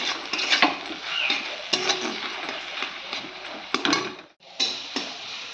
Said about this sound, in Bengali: এবার শাকটা আমি নাড়িয়ে দেবো